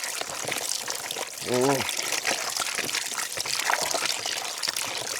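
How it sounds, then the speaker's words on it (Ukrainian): Tap water pouring steadily while river gobies from the Dnipro are squeezed and rinsed of shell bits, with a brief vocal sound partway through. "зараз включаємо водичку і жмакаємо, як тісто наче."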